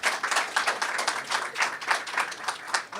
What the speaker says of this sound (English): She deserved a big hand of applause